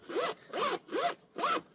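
A zipper on a tomtoc T24 Navigator sling bag is pulled four times in quick, even strokes, each a short, close, rasping zip.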